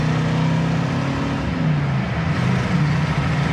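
A 1967 Pontiac Firebird driving down the road, its engine giving a steady low drone with a faint pitch glide as it moves along, loud and close throughout.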